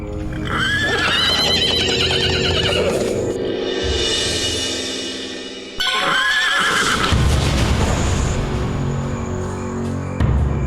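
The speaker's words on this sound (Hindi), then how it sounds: "ये कलुआ बाबा का घोड़ा है साहेब" Horse whinnies loudly and close with a long rising-falling neigh, followed by a second neigh after a brief break, with hoof clip-clop and rustling in the background.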